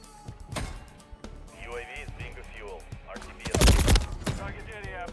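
Bursts of SMG fire in a Modern Warfare 3 multiplayer match, with a heavy close volley near the end, set among game effects and players talking over the action.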